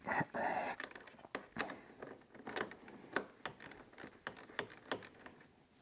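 Wrench loosening the positive terminal on a car battery: a rapid run of close ratcheting clicks and metallic ticks, fairly quiet, with a brief rustle at the start.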